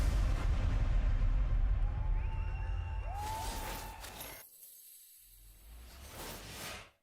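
A bomb detonates in Counter-Strike on the Inferno map during an OG versus Complexity match, a loud, sustained rumbling blast with whooshing debris that fades and cuts away into a quieter stretch.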